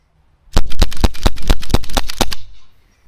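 A Norica NAC 2021 .177 air pistol fires lead Crosman pellets in rapid fire: about eight loud, sharp cracks in a quick, even string lasting roughly two seconds, close up, with nothing else heard.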